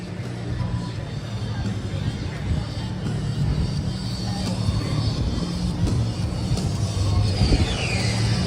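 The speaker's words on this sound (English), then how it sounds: "Over in the distance is a helicopter as well." Low engine drone of a helicopter over a busy Thorpe Park theme park, sitting under constant crowd chatter, ride noise and people talking nearby.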